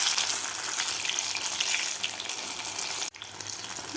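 Paneer pakoras deep frying in hot oil give a steady, dense bubbling sizzle with watery crackle that runs continuously, with a brief dip near the end before the frying noise resumes.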